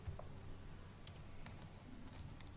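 Light, quick clicks of a computer keyboard as a short string is typed, faint and close with a soft steady background hum.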